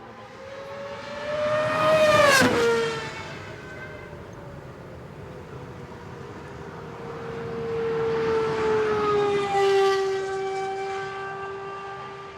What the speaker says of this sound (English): what we do here is the induction noise in that car